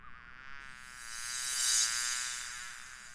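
Cartoon bees buzzing around a beehive make a steady, continuous insect drone that swells a little in the middle and then eases off, with no voices over it.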